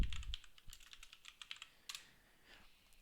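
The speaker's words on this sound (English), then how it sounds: "So I can just type the title I want into here." Keys on a computer keyboard clack in an irregular run of close, crisp taps with brief pauses, typing a window title for a Java Swing desktop app, with no talking.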